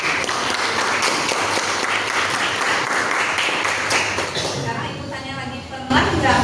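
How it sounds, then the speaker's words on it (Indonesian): Classroom applause for a student named Eli after reciting the Quran, a dense burst of clapping from a group of pupils with voices mixed in, thinning toward the end before a brief renewed swell. "Oke, tepuk tangan dulu untuk Eli."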